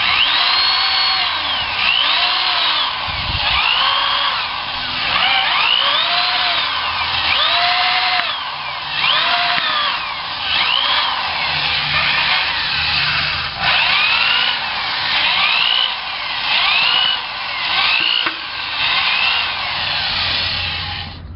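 A power drill spins a cleaning cone over a car's wire wheel, a loud whining motor with repeated rising and falling scrubbing sweeps, close up and continuous with no talking.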